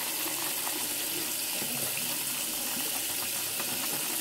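Water runs steadily from a tap in a continuous broadband splash and gush, with no voices, while shaving soap is being lathered by hand.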